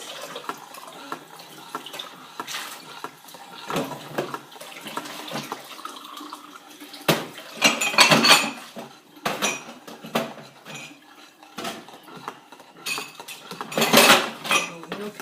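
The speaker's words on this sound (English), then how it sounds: "I'm going to do the dishes." Dishes being washed by hand at a kitchen sink, with stainless steel saucepans among them: running tap water under repeated clinks and clatters of cutlery and pots, with several louder bursts of clanking, close and without talk.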